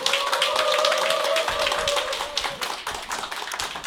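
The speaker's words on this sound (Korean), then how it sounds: "우리 홍진영 국장님 큰 박수로 맞이해 주시기 바라겠습니다." Dense applause from a crowd, continuous clapping that swells and then gradually thins out, with a sustained tone running under it.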